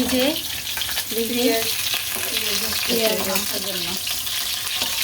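Meat fritters frying in a pan of oil, a loud continuous sizzle close by, with voices talking intermittently over it.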